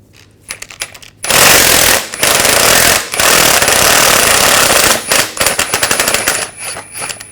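A tool spins a 17mm swivel socket on a long extension, backing out a turbocharger bolt from under a 2004-2009 Audi A4 Quattro 2.0L near the front axle. Loud, close, harsh rattling hammering in several long bursts with brief pauses; no talking.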